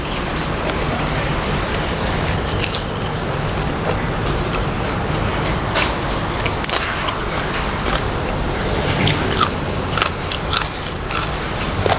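Loud, close crunching and chewing of a spicy red ant egg salad, with continuous crackly bites, heard alone with no talking over it.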